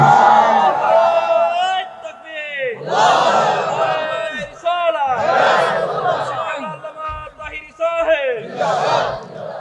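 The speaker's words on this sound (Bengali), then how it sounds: "কারা কারা রাজি আছেন রমজান মাস হাত দিলে নারে তাকবীর।" A large crowd at an outdoor Islamic sermon gathering shouts Allahu Akbar in loud, rhythmic unison several times in a row. A preacher's amplified voice breaks in between the chants.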